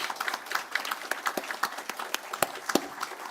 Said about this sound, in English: So to delegates, quick round of applause, please, to our colleagues.